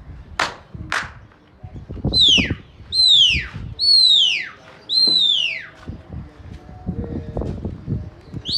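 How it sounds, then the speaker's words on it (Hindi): Desi Gola pigeons take off with a couple of sharp wing claps, followed by a run of shrill, falling whistle-like sweeps and fluttering rustles at close range. "ये कबूतर उठे हुए"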